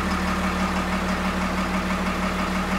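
A Caterpillar 928G wheel loader idles just after a cold start, its diesel holding a steady, even rumble with a low drone that stays constant throughout, close and unbroken with no voices.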